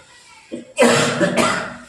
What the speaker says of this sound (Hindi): बीच बीच में खांसी आ जाता है